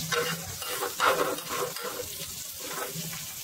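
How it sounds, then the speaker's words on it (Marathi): Curry leaves crackle and sputter in a hot tempering for masala bhindi, a dense, continuous frying hiss with small pops and occasional stirring scrapes, fairly loud and close with no voices. "आणि एकदम तडतडीत त्याची फोडणी"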